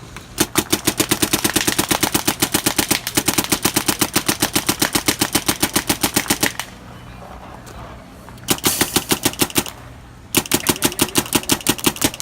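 An Emek paintball marker fires in rapid strings of sharp, popping shots, loud and close, with short gaps between bursts where faint air hiss remains.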